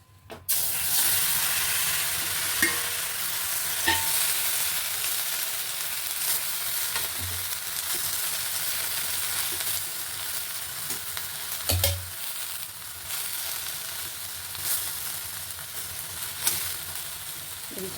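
Tomatoes fry in a pan, a steady close sizzle and hiss running throughout, broken now and then by soft clinks and scrapes of stirring, with no voices.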